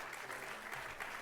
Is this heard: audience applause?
yes